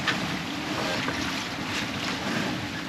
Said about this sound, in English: The waves just are slamming into me and slowing me down all the time.